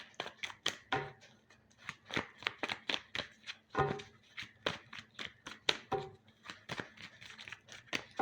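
Tarot cards are shuffled in quick, crisp riffles and slaps, a steady run of close, papery flicks.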